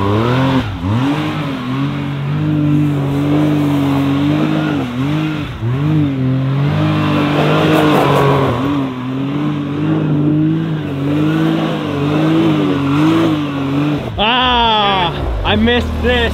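A side-by-side UTV engine with exhaust cutout open revs and drones loudly with rising and falling pitch, then a sharp burst of higher revving near the end; voices are faintly present underneath.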